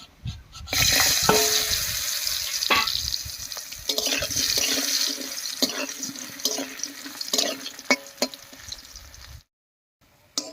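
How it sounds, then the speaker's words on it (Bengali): Lentil dumplings (dal bori) fry in hot oil with a loud, steady, hissing sizzle that holds for about nine seconds, crackling throughout, then cuts off abruptly. "তেল গরম হয়ে গেছে, ডালের বড়িটা ভেজে নিচ্ছি।"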